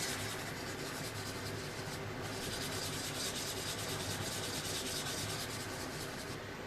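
Steady, continuous rubbing and scraping of a sanding stick against a hard plastic 1:48 Revell F-14D Super Tomcat model kit, close up with no voices.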